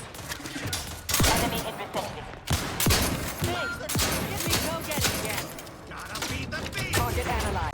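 Gunfire in The Outer Worlds, a rapid series of sharp, loud shots in irregular bursts over continuous combat noise, with some speech mixed in.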